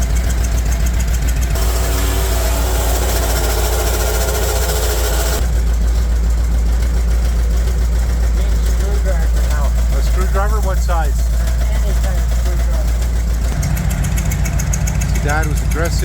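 A Bombardier engine idles loudly with a steady low rumble and rattling vibration, the driver's-side exhaust pipe having knocked against its hole, while people talk intermittently over it.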